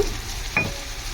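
Two dried red chilies with fenugreek and cumin crackling in hot oil for a tempering, a steady close sizzle with one brief scrape of a spoon midway.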